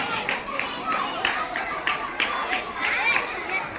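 An audience at a church closing ceremony gives scattered applause for the teachers, uneven claps repeating through the moment while voices and children chatter underneath.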